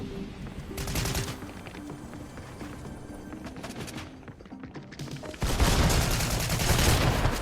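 Shotgun fire in a battle royale video game, heard as a chaotic stretch of muffled gunshots and impacts that ends in a louder, denser burst of firing.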